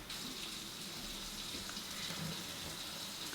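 Warm water pours steadily from a kitchen tap or container while sourdough bread dough is being mixed, a soft continuous splashing rush that runs evenly throughout with no voices.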